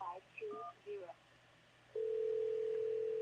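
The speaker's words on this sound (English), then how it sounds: "No, we'll give them a call and see if we can get Samantha on the phone." Telephone keypad tones chirp in a quick uneven series, then a steady continuous tone holds while the call connects, clear and fairly close with no talking.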